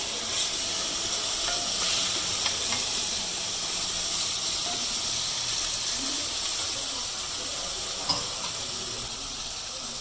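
Pre-marinated pork belly seasoned with soy sauce and white pepper sizzles steadily in a hot pan, a loud continuous hiss with faint stirring clicks throughout.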